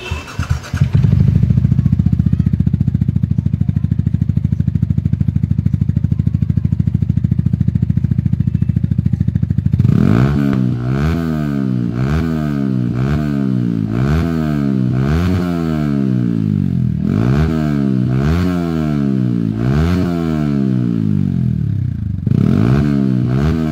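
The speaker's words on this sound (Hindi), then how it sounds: "ये रिमूव कर लिया आप साउंड सुनाते हैं बिना डीबी किलर के" Yamaha R15 V3 motorcycle with a full aftermarket exhaust and the dB killer removed: a steady loud idle, then repeated sharp throttle revs rising and falling in quick bursts, close and deep.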